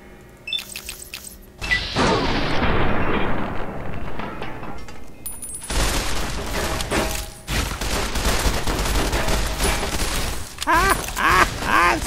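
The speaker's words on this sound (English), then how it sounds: "someone's shooting me" Gunfire and crashing impacts from Fallout New Vegas come in loud, dense volleys, with a short quieter lead-in before sustained bursts of shots. A voice speaks at times underneath.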